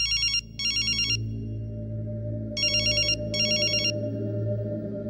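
A telephone rings unanswered in a scene from the Telugu action movie Pokiri: two quick double rings, a pause, then two more, over a low sustained musical drone.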